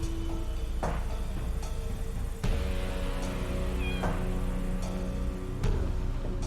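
A cat meows repeatedly in the video game Chaos on Deponia, several distinct mews spaced a second or so apart over a humming game background, near and clear with no talking.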